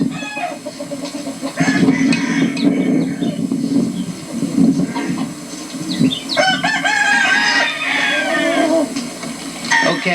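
Chickens at a farm near a concrete patch, clucking and squawking with a rooster crowing in bursts; loud, close, overlapping calls from several birds.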